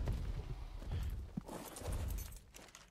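A horse gallops across desert terrain in the video game Ark Survival Evolved on the Scorched Earth map, a quick run of close hoofbeats clopping in an uneven rhythm.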